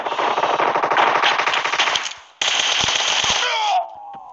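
Machine gun fire in the PUBG video game crackles in two rapid sustained bursts, loud and close, with a brief pause between them before trailing off into quieter sounds.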